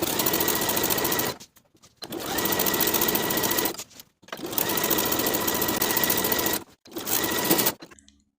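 A sewing machine stitches a blouse hem near the upper inner fold, running in steady loud bursts of rapid mechanical whirring, stopping briefly three times between runs, close up with no talk.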